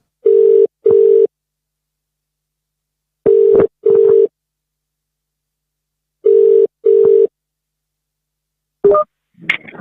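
Ringback tone of an outgoing phone call: three pairs of steady, mid-pitched buzzing rings separated by long silences, loud and clear with no talk, followed by a brief clatter as the line connects.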